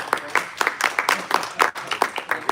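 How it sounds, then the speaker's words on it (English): A small audience claps after a talk on AI-powered phone conversations, a sparse run of individual claps in an uneven rhythm, close and fairly loud. "Let's give a round of applause"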